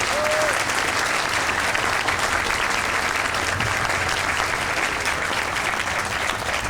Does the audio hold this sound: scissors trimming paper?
no